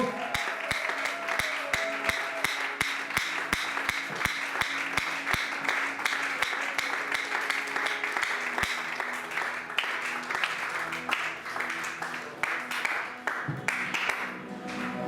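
A church congregation applauds together, with dense, steady clapping from many hands running the whole time and sharper individual claps standing out near the start.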